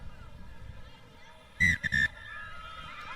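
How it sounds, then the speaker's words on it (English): Referee's whistle ending a women's rugby sevens match between China and Thailand at the Asia Rugby Emirates Sevens in Sri Lanka: a long shrill blast, a short break, then a second blast, loud over low stadium crowd noise. "And that is the final whistle."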